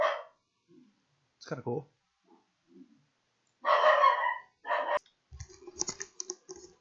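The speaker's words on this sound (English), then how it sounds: "my dog was freaking out at the delivery guy there" A dog barking at a delivery person, a few short sharp barks heard indoors amid someone talking and keyboard typing, fairly distant and intermittent.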